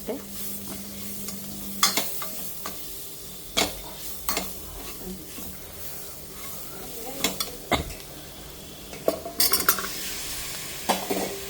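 Brinjal with spices stir-fried in a pan at home, a steady sizzle under repeated scraping and clinking of a metal spoon against the pan, close and moderately loud, with sporadic bursts of stirring.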